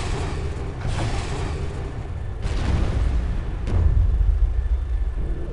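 Heavy booms and blasts from a video game helicopter firefight, with Hydra rockets and cannon fire in Comanche 4, rumble over a constant low roar, with a few sharper impacts standing out.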